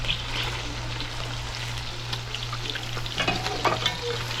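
Pork chops fry in hot oil in a pan for bisteak, a steady close sizzle and crackle with a low constant hum underneath and brief louder spatters near the end.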